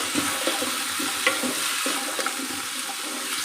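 Potato and tomato pieces stirred together in a pan for a no-onion, no-garlic vegetable dish, giving a steady moist sizzling and scraping texture with soft irregular stirring knocks, close and continuous, no talking.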